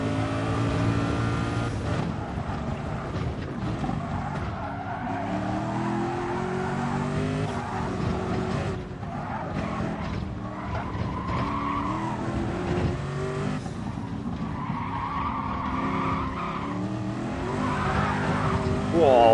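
Race car in a racing video game twitching into a sharp oversteer slide, tires squealing over a steady loud engine drone with shifting revs, someone talking over the game throughout.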